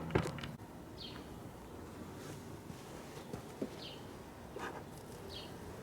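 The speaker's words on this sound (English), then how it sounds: "let's go over to the beehive." Honeybees around a beehive during a first hive inspection, a faint steady buzzing drone outdoors with occasional louder passes of individual bees and a few bird chirps in the background.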